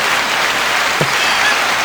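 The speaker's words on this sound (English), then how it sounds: "This one's a hand clap." Recorded applause plays from a sound board as a steady, dense wash of many clapping hands, fairly loud and unbroken, with a brief low knock partway through.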